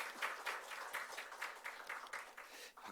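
A church congregation applauds its worship musicians with faint, rhythmic clapping that pulses steadily for a few seconds in a quiet room.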